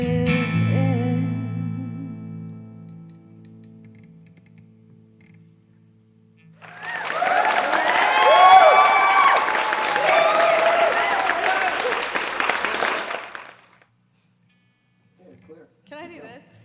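Audience at a children's music show, The Big Happy Music Show, bursts into loud sustained applause and cheering for several seconds after a sung passage, then cuts off abruptly into silence.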